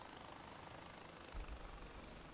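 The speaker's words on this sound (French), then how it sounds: "ça croit pouvoir piloter un hélicoptère" Far Cry 4 video game helicopter, its engine and rotors droning steadily, with a low thump and swell about halfway through before settling back to a constant hum.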